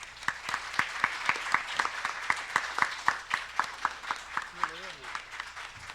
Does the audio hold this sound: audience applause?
yes